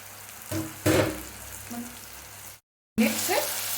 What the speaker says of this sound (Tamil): இப்போ நம்ம வந்து இது கூடையே நம்ம கழுவி வச்சுருக்கிற பிராணையும் போட்டுறோம்.